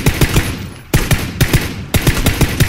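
Rapid automatic gunfire in the video game PUBG rattles out in three close, loud bursts, each a fast string of sharp shots with tiny pauses between.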